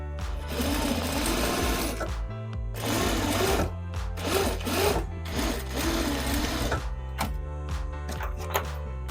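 A domestic sewing machine runs slowly through the bulky layers of a small tote bag, humming in near, continuous stitching runs broken by a few brief pauses.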